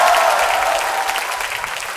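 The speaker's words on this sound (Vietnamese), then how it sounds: "Một tràng pháo tay thưa quý vị." A theatre audience at a Vietnamese music show applauds a stage performance, a sustained wash of clapping at even loudness, slowly fading slightly toward the end.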